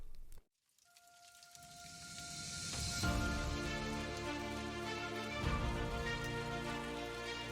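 Steady rain falls in a continuous, relentless wash on the I-5 highway, starting faint and building to a full, even hiss that holds to the end, with a tonal musical bed underneath.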